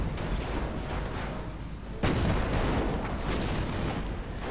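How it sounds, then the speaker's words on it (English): Mortar rounds land and explode in a WWII strategy game, a steady roar of booms and blasts with a sharp, heavier impact midway, loud and unbroken. "mortar rounds continue to fall"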